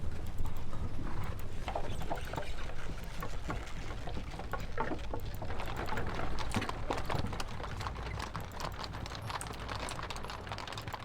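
Hooves of Nepalese horse artillery in a Napoleonic strategy game clip-clop in a dense, continuous patter of many overlapping hoofbeats, steady and moderately loud with no talk.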